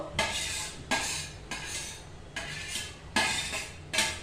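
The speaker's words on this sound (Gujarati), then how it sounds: "અહીંયા મેં તેલ ગરમ કરવા મૂક્યું છે. એમાં પહેલા આપણે વેજીટેબલ્સ નાખી દઈએ." Vegetables in hot oil in a pan for American chopsuey, heard as about six evenly spaced bursts of scraping and clattering, quiet and close, with only a faint sizzle beneath.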